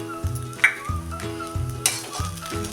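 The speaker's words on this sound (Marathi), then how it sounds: "आता ते चांगलं आपण हलवून घेऊया खिचडी" Sabudana khichdi with coconut and sugar being stirred in a pan, a series of close spoon strokes and scrapes repeating every half second or so over a soft sizzle, with no talk.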